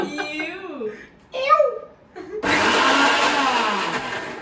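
Someone talks briefly, then a mixer grinder whirs loudly into a single sustained burst, close and noisy.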